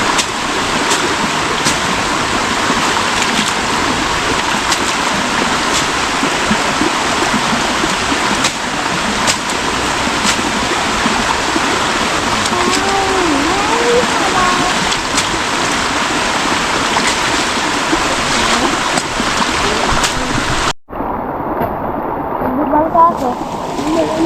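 Heavy rain pours steadily in the countryside near a broken bridge, a dense continuous roar of falling water throughout, loud and close, cut by a brief drop in sound near the end.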